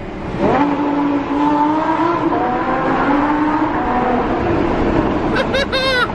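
A loud straight-piped Lamborghini exhaust roars and revs through a tunnel, steady and close throughout, with a burst of higher revving near the end.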